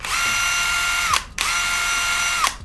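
A DeWalt DCF801 12V brushless impact driver runs in two steady, high-pitched whining bursts with a short pause between them, loud and close, with no talking.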